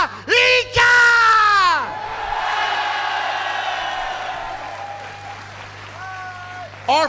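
Live crowd at a Tokyo Street Fighter event: Daigo versus Menard, roaring and cheering loudly alongside a booming amplified announcer's voice, with the cheers swelling and fading between his calls.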